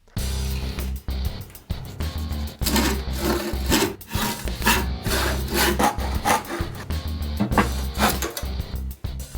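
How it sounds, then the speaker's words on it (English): Cut wooden pieces for a wagon being sanded at their ends by hand, a steady rasping, rubbing scrape in repeated strokes that runs continuously and close up with brief pauses between passes. "Then sand all the ends."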